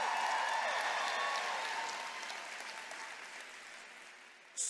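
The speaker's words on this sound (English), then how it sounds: "How about another huge round of applause for them" Audience applause for a band at the D23 Expo 2022, a broad wash of clapping that fades gradually as it goes on, with a small sharp sound at the very end.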